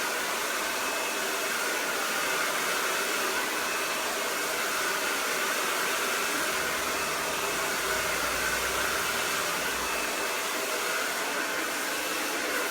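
A hair dryer blows a steady, loud, even rush of air while hair is brushed out. The whir holds close and constant from start to finish, with no speech.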